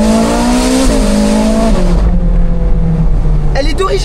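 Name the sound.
Ferrari Spider engine with original exhaust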